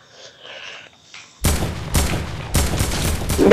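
Gunfire in the video game Fortnite erupts after a quiet moment: a burst of loud, close shots, followed by several more sharp reports in quick succession with no talking over them.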